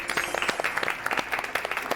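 Audience applause after a vocal evaluation performance; dense, steady clapping throughout, with a few sharper claps standing out and no talk over it.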